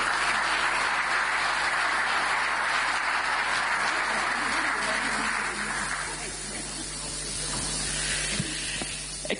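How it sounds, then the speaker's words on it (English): Steady applause from a crowd at an EU-African Union summit fills the room, a dense hiss of clapping that thins out slightly toward the end. "Give her a warm round of applause."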